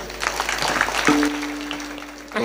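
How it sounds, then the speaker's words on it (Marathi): An audience at a Marathi comedy kirtan breaks into clapping, a dense wash of applause that swells then thins, with a sustained musical tone entering partway through and no clear speech. "ज्यांनी ज्यांनी हार घातले त्यांच्यासाठी पण टाळी वाजवा"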